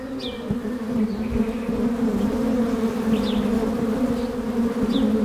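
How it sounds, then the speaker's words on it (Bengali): Honeybees buzz loudly and steadily close by in Manas National Park on the India-Bhutan border, a dense droning hum easily mistaken for a drone, with faint bird calls above it. "ইট ইজ মৌমাছি।"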